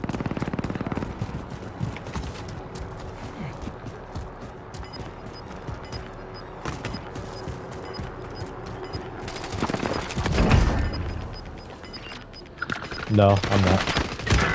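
Bursts of automatic gunfire crackle through a Call of Duty: Modern Warfare Warzone match, fairly distant and moderate under ambient battle noise, growing heavier toward the end, while a voice speaks briefly.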